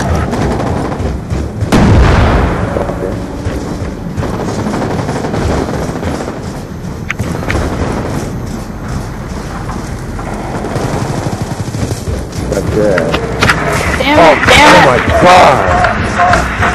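Dense video game gunfire, with rapid bursts and heavy booms running almost continuously and loud throughout, building into a busier volley near the end.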